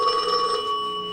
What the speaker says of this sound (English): Why does it make that hideous sound?